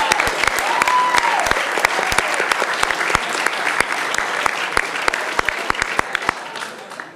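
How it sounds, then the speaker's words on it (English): Audience applause fills the room at a press club spelling bee, a dense, sustained patter of many hands clapping with sharp individual claps standing out, fading slightly near the end. "Too busy clapping."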